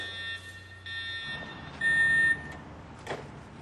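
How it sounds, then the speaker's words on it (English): A building evacuation alarm sounds in repeated high electronic tones, pulsing on and off in several bursts over a low background hum, with one burst noticeably louder. "You should also be able to recognize the sound of your building's evacuation alarm so you can react quickly when you hear it."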